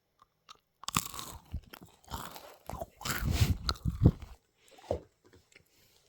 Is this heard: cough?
no